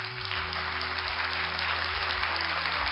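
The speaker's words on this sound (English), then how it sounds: "Let me give you applause." Audience applause during a Korean talk show with Seo Eun-Kwang and Super Junior K.R., a dense, even burst of clapping lasting a few seconds, with a steady electronic hum underneath.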